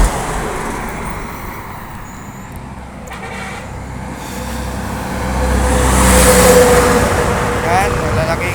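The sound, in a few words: large trucks passing on a highway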